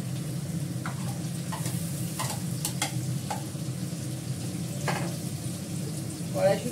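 Gravy poured into a hot kadai already seasoned with Kashmiri chilli powder gives a steady low sizzle, broken by scattered scrapes and taps of stirring, close up with no talk.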